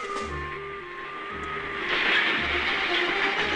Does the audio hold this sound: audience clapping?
no